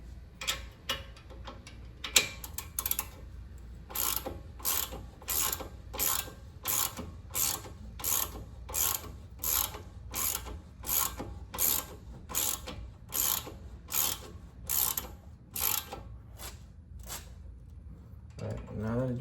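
Ratchet wrench tightening bolts on the brakes of a 2019 Toyota Corolla hatchback, a repeated run of sharp clicking bursts in a steady back-and-forth rhythm, close and clear, with occasional speech in between.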